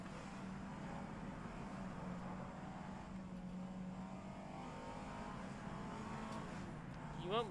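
A race car in rFactor 2 at the Targa Florio road circuit draws closer from behind, its engine a steady distant drone beneath in-car noise before a rising whine swells near the end.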